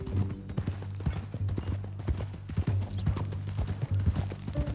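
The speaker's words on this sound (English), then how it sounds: "That a new horse?" A horse's hooves clip-clopping at a steady walking rhythm, sharp distinct knocks close by over a low background hum, with no voices.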